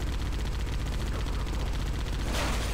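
Gunfire in Halo CE rattles in rapid automatic bursts, loud and dense over a constant battle din, with a brighter burst near the end.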